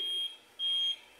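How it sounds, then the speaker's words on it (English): Electronic beeping in two clear pulses, each about a third of a second, with a short gap between them, faint and thin with no voices. "It's kind of a beeping sound."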